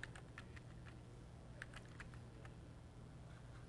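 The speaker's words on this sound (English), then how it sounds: "And to change the name, you just type in a new name." Faint, quick clicking of keys on a computer keyboard as a new name is typed into a software tool, with irregular keystrokes over a steady low background hum.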